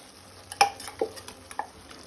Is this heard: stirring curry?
yes